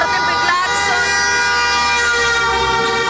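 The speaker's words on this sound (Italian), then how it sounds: "clacson di chi festeggia questo momento storico" Car horns honk in celebration of a historic local result, several overlapping sustained toots blaring loudly and continuously, with voices faintly mixed in.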